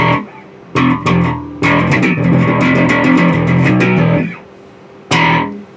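Heavily distorted electric bass playing loud, aggressive notes in bursts, with a brief pause before a final struck note rings out alone.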